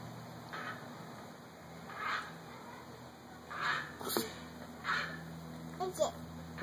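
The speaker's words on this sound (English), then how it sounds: "It sounds like a duck." Several short duck-like quacks come at spaced intervals during summertime water play, moderately loud, with children and adults talking around them.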